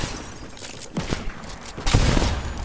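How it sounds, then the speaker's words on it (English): Gunfire in Fortnite: several close bursts of shots in quick succession, with a louder cluster near the end over constant game background noise. "I can't hit any of my shots."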